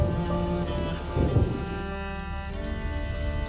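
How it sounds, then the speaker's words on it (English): Steady rain in the video game A Plague Tale: Innocence, a constant hiss of drops falling on surfaces with a faint distant thunder rumble, under musical tones and without speech. "would you mind if we get out of the rain, please?"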